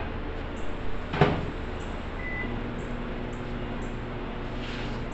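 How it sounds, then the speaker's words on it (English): A single sharp click as a microwave door is opened and loaded, followed by a steady low hum in a quiet room. "Put it in the microwave for about"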